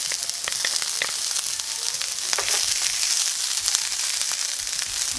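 Garlic sizzles loudly in a hot pan alongside scrambled tofu, a dense continuous crackle with frequent sharp pops and spits throughout, and no talking over it.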